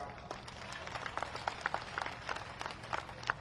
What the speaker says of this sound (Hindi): अब ताली भी बजे तो जोरदार बजाओ